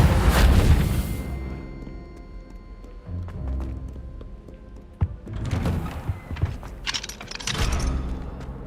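Reparo repair spell cast in the video game Hogwarts Legacy: a loud whooshing burst at the start, then scattered thuds and shimmering magical swells with a sharp knock in the middle and a bright flourish near the end, with no talk.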